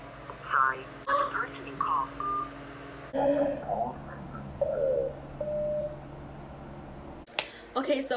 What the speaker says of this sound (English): I'm calling him right now to see if he answers me.